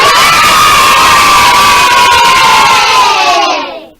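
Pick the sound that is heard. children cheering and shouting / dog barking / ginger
children cheering and shouting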